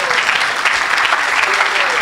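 A congregation applauding during a church service, dense continuous clapping that fills the room at a loud, even level, with voices blended into the ovation throughout.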